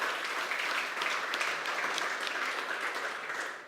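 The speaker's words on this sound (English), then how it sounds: "A rather large round of applause for Craig." A crowd at a workplace talk applauds a speaker, a fairly distant, continuous patter of many hands that holds steady and tapers slightly at the end.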